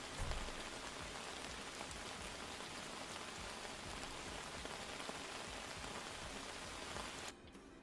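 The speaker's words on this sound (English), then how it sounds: "It's also rain sounds." Steady rain falls in a dense, even hiss of countless drops on a surface, quiet and unbroken for several seconds before abruptly dropping to near silence at the end.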